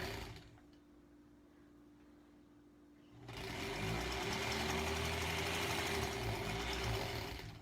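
Home sewing machine stitching granny-square quilt pieces; after a quiet start it whirs into a steady, fast, close mechanical hum for several seconds.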